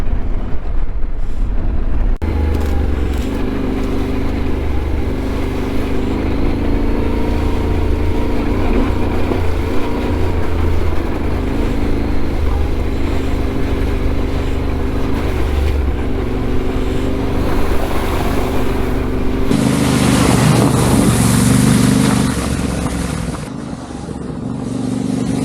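Yamaha Ténéré 700 Extreme Edition motorcycle riding a greasy, muddy dirt track, a loud steady engine drone throughout with wind noise, swelling louder and rougher near the end before easing off.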